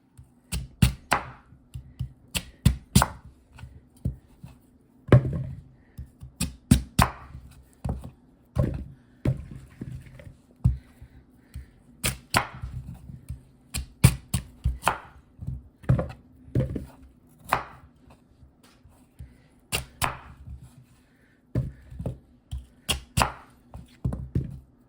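A knife chopping white potatoes on a cutting board makes sharp, close thunks in quick irregular bursts separated by brief pauses.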